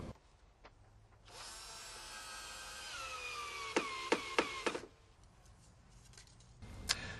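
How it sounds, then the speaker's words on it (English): A power drill drives 2.5-inch rust-resistant screws into a wooden door frame, a whirring run with rising pitch that ends in several sharp clicking bursts, fairly faint and close with no talk. "I'll insert the screws to a point where they hold the wood in position, without tightening them completely."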